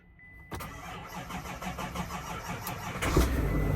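A GMC Denali truck engine cranks and catches after a jump from a NOCO jump pack, then settles into a rough idle and revs up sharply near the end. The engine is close and loud, with no talking.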